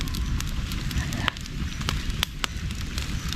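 An outdoor cooking fire burns beneath a pot of fish tinola, giving a steady, dense crackle and rush with sharp pops and snaps scattered throughout, close and fairly loud.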